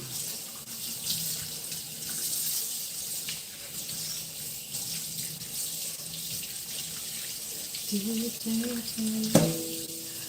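Steady running water from a faucet as freshly harvested peppers are rinsed in a sink, a continuous close splashing hiss with a few clunks and a brief tonal squeak near the end.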